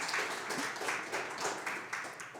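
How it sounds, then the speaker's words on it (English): An audience at a space security panel discussion applauds the three speakers with a brief, steady patter of clapping, moderately faint and heard alone. "if you can give a round of applause to all the three amazing women who will be sharing"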